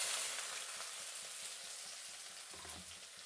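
Onion dropped into hot oil already crackling with mustard seeds for a dal tempering, a strong, close hiss that starts loud and slowly settles into a steady sizzle, with faint clinks of stirring.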